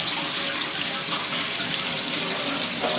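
Running tap water splashing steadily into a sink as vegetables are washed by hand in a village kitchen, a constant close hiss with no talking.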